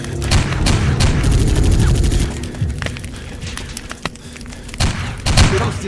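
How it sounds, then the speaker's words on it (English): Grenade blast and bursts of gunfire from the shooter game Bet On Soldier, loud and close, with rapid rattling shots through the first half, then a heavy boom and scattered later shots. "Grenade!"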